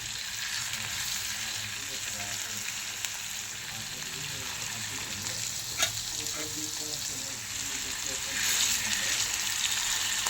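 Fish frying in oil in a shallow pan, giving a constant loud crackling sizzle close up, with a few soft stirring and turning sounds and a brief swell near the end.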